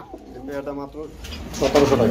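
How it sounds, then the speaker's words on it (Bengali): Copper black Archangel pigeons at a market give soft, rolling coos close by, and a voice overlaps them near the end. "আর্সেঞ্জেল কবুতর গুলা দেখতে পাচ্ছেন এটা হচ্ছে বন্ধুরা কপার ব্ল্যাক কালারের মধ্যে"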